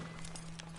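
Horse hooves clip-clop in a quick, soft patter in an old-school GTA-style game on PS4, faint and brief beneath a steady low hum.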